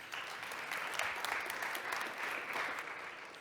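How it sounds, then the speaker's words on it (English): An audience at a tech conference pitching session claps in a steady round of applause, heard from a distance and fairly soft, with no speech over it. "a little round of applause"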